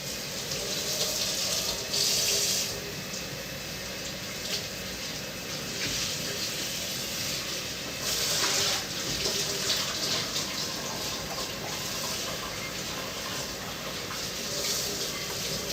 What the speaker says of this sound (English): I guess I'll just rinse and dry quick